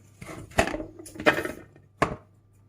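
Three sharp knife strikes land on a cutting board at uneven intervals while chopping green peppers, close and crisp, with quiet handling sounds between them.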